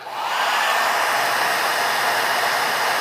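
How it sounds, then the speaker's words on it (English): A handheld hairdryer blows hot air onto a plain white candle, a steady, loud, unbroken whoosh that rises quickly at the start and holds evenly throughout with no talking. "if I apply heat via this hairdryer"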